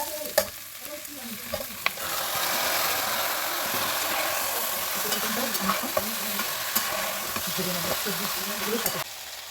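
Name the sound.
marinated chicken and vegetables frying in pan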